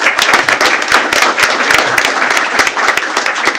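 Loud, dense applause fills a school board meeting as the audience claps for honored students, many hands clapping steadily and close, with no speech over it.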